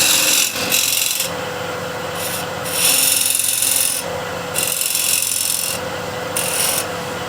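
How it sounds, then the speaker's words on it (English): A negative rake scraper cuts a bead into spinning wood on a lathe, a raspy hissing scrape in several separate bursts, each lasting about a second or more, close and loud with no talking. "And I will use the point of the scraper, and here I'll just use it lightly"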